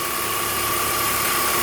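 BMW E46 M3 engine running with a failing alternator diode pack, a thin steady whine sitting over the continuous idle drone, close and unbroken.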